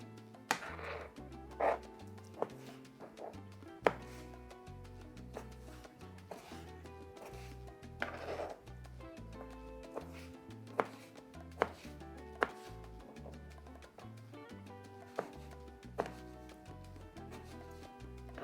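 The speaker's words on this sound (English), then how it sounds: "I'm just gonna take them one at a time and cut them into dices" A knife dices tomato slices on a cutting board, with quiet, irregular chopping taps and occasional sharper knocks, close by over soft background noise.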